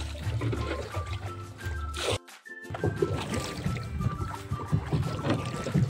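A straining boat engine drones steadily with a labored, uneven hum, briefly cutting out before resuming, along with splashing water.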